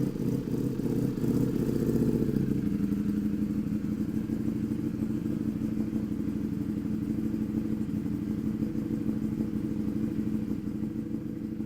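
A race motorcycle idles steadily and close by, its low, even engine rumble holding throughout with a slight shift in tone early on and no talking.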